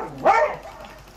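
A single short dog bark from a video game, fairly loud and close, with a yelping rise and quick fade over faint background noise.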